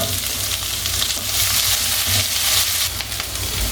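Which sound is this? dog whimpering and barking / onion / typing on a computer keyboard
onion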